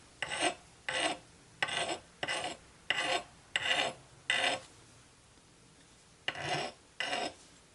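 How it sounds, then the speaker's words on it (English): Rhythmic rasping strokes of a file against the hard plastic edge of an airsoft pistol barrel tip, about ten even passes with a short pause midway, close and clear. "I'm just sanding it or filing it just a little bit on the edge"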